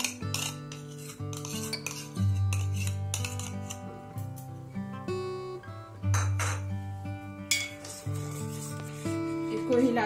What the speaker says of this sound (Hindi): इसको हिलाते रहेंगे, नहीं तो नीचे में बैठ जाता है।